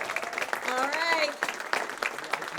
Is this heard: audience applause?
yes